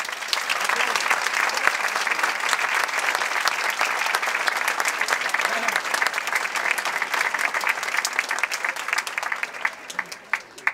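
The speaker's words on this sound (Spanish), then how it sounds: "merece un fuerte aplauso." Sustained applause from a large concert audience for a band's 90th anniversary, continuous and energetic, with a few scattered claps standing out as it starts to thin near the end.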